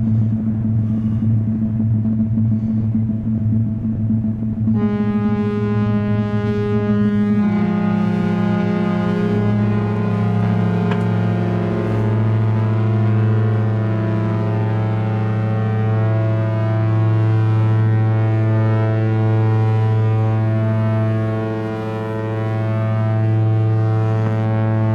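SOMA Terra synthesizer playing a sustained, droning tone with a deep low rumble, a bright harmonic layer entering after a few seconds and staying steady and loud throughout, foghorn-like and without voices.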